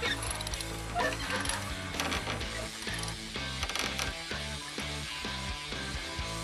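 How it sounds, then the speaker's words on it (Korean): Ratchet straps being cranked tight to secure a timber load on a truck, a steady run of rapid metallic clicks from the pawl, close and continuous. "이동 중 혹시 모를 이탈을 대비해 단단히 끈을 조여 나무를 안전하게 고정해 줍니다."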